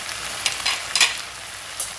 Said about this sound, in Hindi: अच्छे से इनको मिक्स कर लेंगे।